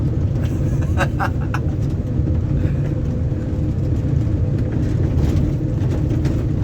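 A car engine strains and roars continuously while accelerating on a soft, slippery track, loud and close from inside the vehicle with a steady rumbling drone throughout.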